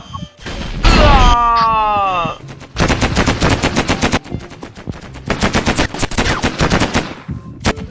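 Automatic gunfire rattles loudly in the Mini World space-war map as gun turrets are shot and destroyed, rapid repeated bursts running through most of the stretch after a short crashing impact.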